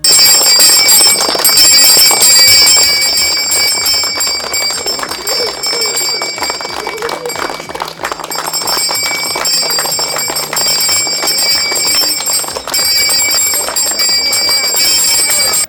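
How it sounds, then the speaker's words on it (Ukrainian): A school bell rings loudly and steadily for the whole stretch at a last-bell ceremony in a village school, with the crowd murmuring faintly beneath it. "гучно та урочисто задзвенів дзвінок в Боратинській школі"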